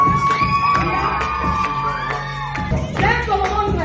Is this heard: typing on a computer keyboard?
no